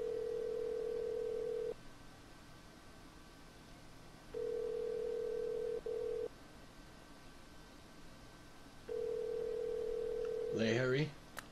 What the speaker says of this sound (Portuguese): Atende o telefone, Larry